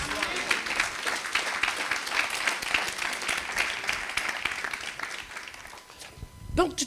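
Church congregation applauding in sustained, dense clapping that fills the space, steady and fairly loud, fading toward the end as a voice cuts in.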